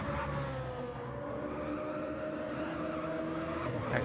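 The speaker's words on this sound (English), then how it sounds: "I'm hearing a lot of tyre squeal coming from that Hooncorp car." A race car's tyres squeal steadily in Gran Turismo 7 as the Hooncorp car struggles through a corner, a sustained squeal over continuous engine noise during a racing league event.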